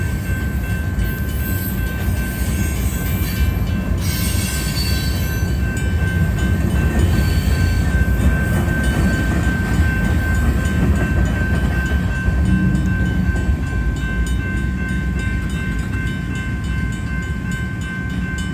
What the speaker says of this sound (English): Okay, now the end of the train is right here.